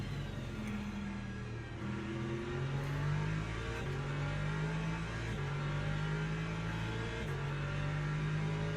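An LMP3 race car engine in the video game Le Mans Ultimate, droning steadily and climbing through rising revs with gear changes, loud and close, with no talk over it.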